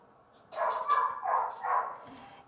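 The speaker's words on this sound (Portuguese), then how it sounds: "Os cachorros estão animados hoje." Several dogs bark in a quick run of three or four yapping, bow-wow barks, fairly close and moderately loud, against a quiet indoor background.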